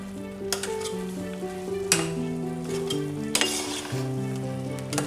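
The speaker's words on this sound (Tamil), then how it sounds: "தேங்காய் பாருங்கள் நல்லா வெந்து வந்துக்கிட்டு இருக்கு" Grated coconut simmering with milk and water in a heavy-bottomed pan for coconut burfi, a continuous close sizzle broken by sharp clinks and scrapes of a spoon stirring against the metal.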